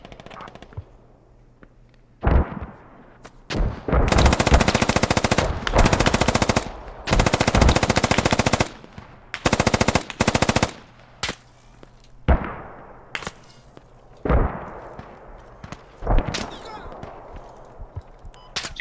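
Heavy automatic gunfire in the military shooter game Squad, several long sustained machine-gun bursts hammering close and loud, broken by shorter volleys and single cracks, with a few speech sounds between the bursts.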